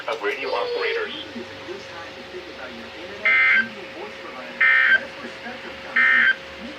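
NOAA Weather Radio Emergency Alert System required weekly test: a broadcast voice is followed by three loud, evenly spaced buzzing data bursts about a second apart over a faint steady tone.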